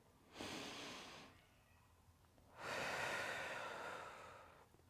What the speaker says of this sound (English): And I'm gonna breathe here for a second.